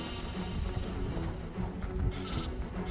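Hooves of a horse walking in a rough clip-clop, close by, with light shuffling and faint background noise.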